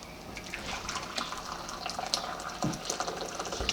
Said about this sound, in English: hot water in the plate.